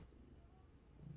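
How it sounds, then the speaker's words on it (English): Low, steady rumbling purr from a cat close by, continuous throughout with a slight swell near the end. "there is a cat purring very loudly"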